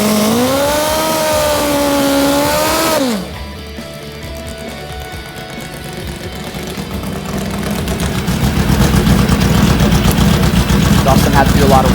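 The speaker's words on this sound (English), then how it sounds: "Give you another close look at Dustin Jansen's awesome NITROUS Pro mod" A nitrous Pro Mod drag bike engine runs at a drag racing event, a loud, rough mechanical roar that builds in intensity after a brief voice-like tone at the start.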